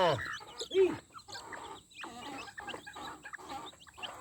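Chickens and chicks clucking and peeping at close range, scattered short calls and chirps over a quiet background, with faint voices talking softly.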